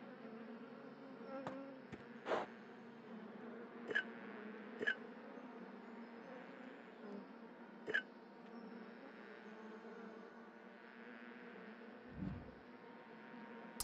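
Insects buzz continuously in the video game Escape Academy, a low steady drone broken by several sharp clicks and blips from the game.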